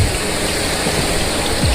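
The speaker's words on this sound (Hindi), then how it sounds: "जब बर्फ़ पिघलती है उसका ठंडा पानी होता है जो यहाँ पे इस वाटरफॉल में आता है।" Cold snowmelt water crashing down a waterfall into a pool in McLeodGanj, Dharamshala, a loud, close, continuous roar with no talk.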